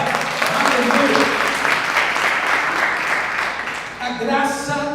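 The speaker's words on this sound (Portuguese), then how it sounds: "Vamos aplaudir ao Senhor." A church congregation gives sustained, dense applause in praise during a worship service, then a voice speaks as the clapping dies down near the end.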